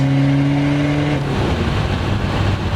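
Nitrous-fed VW Polo TDi with a 5-speed gearbox pulling hard, engine note climbing steadily before breaking off into a rougher, lower roar as it shifts, loud and close throughout.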